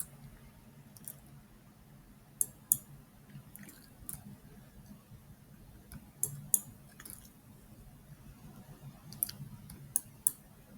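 A computer mouse clicking during image editing, scattered sharp faint clicks, some in quick pairs, spread across a quiet background hum.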